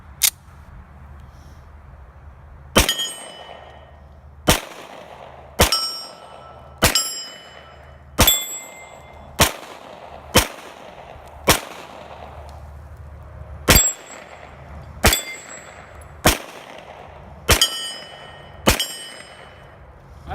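A RIA Pro Ultramatch .40 pistol fires about fourteen sharp shots, each ringing off a spinning steel target with a metallic clang. The shots come at an uneven, steady pace across the stretch, with quiet gaps between them.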